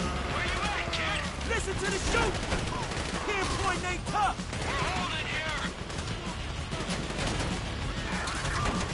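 Enemy gunfire in GTA 5 crackles in bursts throughout, dense shots mixed with crashes and game effects, under a busy mix with a voice talking over it.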